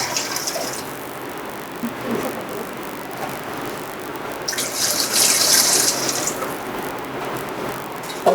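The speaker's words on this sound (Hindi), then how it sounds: "तकरीबन 1 जग के करीब इसमें हम पानी शामिल करेंगे।" Water from a jug poured into a pot of chicken biryani masala, a steady splashing flow that swells louder for about a second midway, close and without talk.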